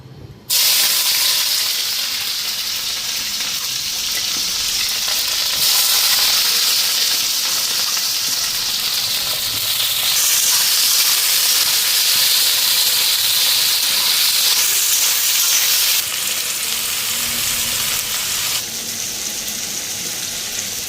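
Soaked, rinsed chowmein hits a pan with potato and capsicum, letting out a loud, continuous hiss and sizzle that holds for about twenty seconds, with no one talking.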